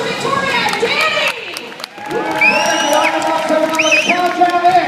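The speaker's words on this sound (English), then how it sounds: "Let's get a round of applause for Victoria and Danny!" A live stunt show crowd at Universal Florida cheers, whoops and applauds, loud and lively with shouting voices and pitched yells rising over the clapping.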